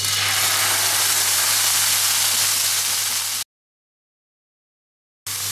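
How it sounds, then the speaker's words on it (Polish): Pork shoulder sears in a pan over high heat, giving a loud, steady, close sizzling hiss that cuts off abruptly into silence and then resumes. "Opiekam z każdej strony na ostrym ogniu"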